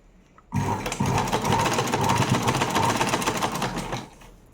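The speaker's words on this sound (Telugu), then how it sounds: "అలా పాదం దాని మీద పెట్టేసి దీని లోపలికి ఇలా అనుకుంటూ పైనుంచి ఒక స్టిచ్ చేసేసుకోవడమే" A sewing machine stitches a rubber band hair accessory in one continuous run of about three and a half seconds, a close, fast, even mechanical whir.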